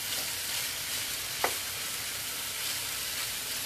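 Shrimp frying in a pan for smothered shrimp, a steady soft hiss of sizzling oil with one brief sharp crackle, heard alone without talk.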